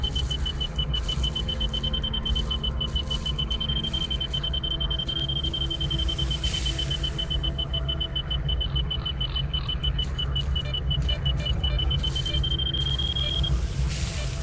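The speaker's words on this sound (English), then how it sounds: "your detector will indicate the location of the artifact" An artifact detector in S.T.A.L.K.E.R. Clear Sky beeps in a long run of rapid, high-pitched pulses whose pace shifts as it goes, over a steady low game ambience.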